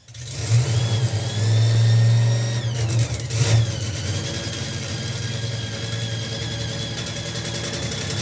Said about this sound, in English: the car making a very strange whining sound at the minute. It's a supercharger.